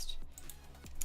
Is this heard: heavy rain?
no